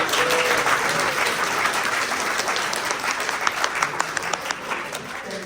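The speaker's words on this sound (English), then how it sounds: "please give our speaker a big round of applause" An audience at a talk on U.S.–China relations gives the speaker a hearty round of applause, dense clapping that stays strong and then thins into more distinct individual claps toward the end.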